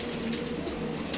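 Colourful breeding pigeons coo in a loft, a low, soft, rolling murmur that runs steadily through the short moment with no talking.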